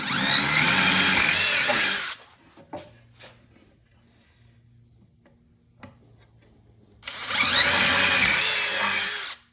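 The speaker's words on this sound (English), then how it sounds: "we're going to drill the holes on the side of the fan" A power drill whirs loudly for two seconds, goes quiet with a few small clicks and taps, then whines again for another couple of seconds, drilling holes in the side of a box fan.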